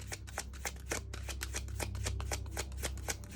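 A deck of tarot cards shuffled close up, a rapid run of crisp riffling flutters and taps repeating steadily, alone and fairly quiet.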